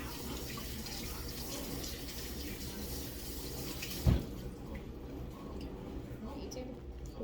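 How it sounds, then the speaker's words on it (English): Running tap water pours steadily while hands are washed in a kitchen during meatball preparation, a constant close hiss with a brief thump midway. "Let me wash my hands."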